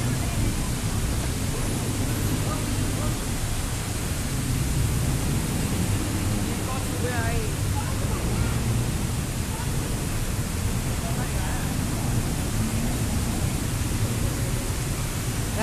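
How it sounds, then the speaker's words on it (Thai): A waterfall feature at Siam Paragon in Bangkok gives off a steady, broad rush of falling water that fills the whole stretch evenly, with faint voices behind it. "ก็มีน้ำตก"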